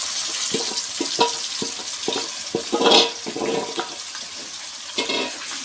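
Marinated chicken tipped into golden-fried onions in a pressure cooker for chicken biryani, giving a close, watery sizzle with repeated soft clatters and one louder hissing burst midway, with no talking.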